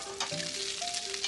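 Garlic frying and browning in a pan, a continuous close sizzle with faint tonal hum underneath, steady and moderately loud without talking.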